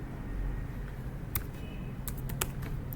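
Code being typed on a computer keyboard while writing Node.js: a few scattered, crisp key clicks in small bursts over a steady low room hum, with no talking.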